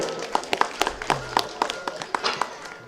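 A small audience claps for members of a local community club at a Jagaddhatri Puja gathering: a loose scatter of individual claps rather than a full roar, moderately loud throughout.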